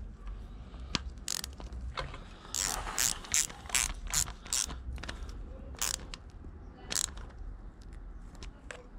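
A hand ratchet clicks in quick bursts while tightening a fitting on a removed Renault 1.9 dCi diesel engine, close and crisp over faint background noise, with a few pauses between strokes.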